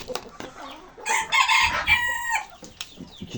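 A turkey calls loudly and repeatedly in a close, harsh burst lasting about a second and a half, with quieter clucks and farmyard noise around it.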